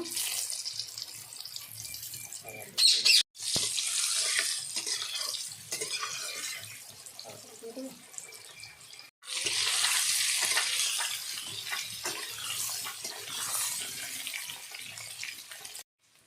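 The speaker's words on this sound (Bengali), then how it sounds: "তেল গরম হয়ে গেছে এবার দিয়ে দিচ্ছি আমি একটা অল্প হলুদ আলুগুলো এর মধ্যে দিয়ে দিচ্ছি" Small potatoes with turmeric dropped into hot oil give a loud, steady hiss and sizzle, briefly cut off twice before resuming strongly, close up and without talk.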